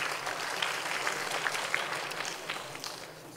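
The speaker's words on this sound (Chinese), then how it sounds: "掌声鼓励一下啊！" Applause in the legislative chamber during a session of Taiwan's Legislative Yuan, steady moderate clapping from many members throughout.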